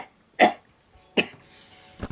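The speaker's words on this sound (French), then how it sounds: "Je tousse." Two separate harsh coughs come from one person, close and loud, followed by a shorter third sound at the end, with quiet between them.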